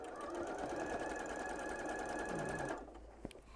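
A sewing machine stitching the side seam of an eco bag, a steady close whirring run for nearly three seconds before stopping, followed by a small click.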